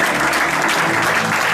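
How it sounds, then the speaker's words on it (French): Applause fills a church seminar, a dense, steady wash of clapping from a crowd that keeps up without a break. "Est-ce qu'on peut applaudir le Seigneur Jésus?"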